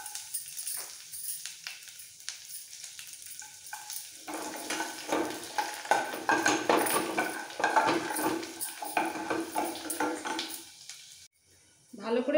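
Whole white cumin and chopped garlic sizzle in hot oil for a curry pakora (kadhi pakora), with scraping stirs and light clinks of a spoon against the pan. The frying grows louder midway and then cuts off briefly near the end.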